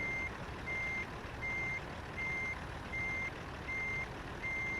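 A truck reverses with steady, evenly spaced backup beeps repeating about seven times over a loud, constant engine rumble, close by.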